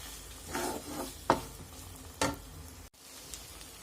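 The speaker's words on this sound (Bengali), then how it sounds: "ছোলার ডালের সঙ্গে সয়াবিনটা ভালো করে কষিয়ে নেবেন।" Boiled chana dal and soybean chunks being stir-fried with spices in a pan, giving a soft frying hiss with a few scraping stirs and clinks near the mic, no talk.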